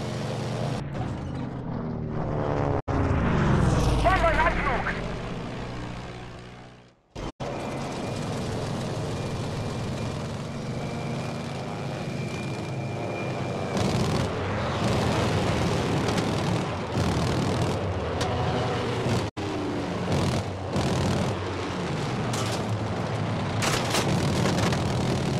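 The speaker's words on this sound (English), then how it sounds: "Bombenangriff!" A Battlefield V bombing raid: a loud rising aircraft roar gives way abruptly to a long, steady rumble of engines and distant explosions, continuous and heavy throughout.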